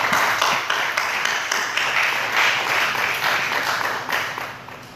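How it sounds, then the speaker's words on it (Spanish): Applause from a Pentecostal church congregation during a service, continuous close clapping with crisp individual hand strikes, sustained at a fairly even level and easing slightly at the end. "¿Cuánto le da un aplauso fuerte al Señor, hermano?"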